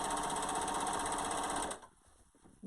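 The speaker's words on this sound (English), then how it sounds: "I'm going to use my serger to sew my 2 shoulder seams" Serger sewing the shoulder seams of a reusable isolation gown, a loud, fast buzzing whir that runs steadily for almost two seconds, then stops abruptly, leaving quiet.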